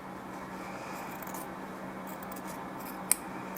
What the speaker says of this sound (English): I'm going to cut this in half. Well, cut between the lines.